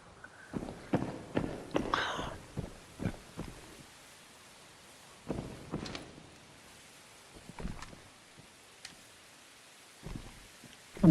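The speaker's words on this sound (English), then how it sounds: "I heard their footsteps from 240 bakery direction" Footsteps in a video game: a quick run of distinct steps followed by a few scattered, softer ones, fairly close and with no voices over them.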